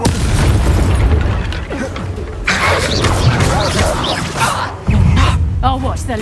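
Confringo spell explosions in the video game Hogwarts Legacy, heavy booming blasts with crackling bursts, loud and close, mixed with combat effects and shouted voices.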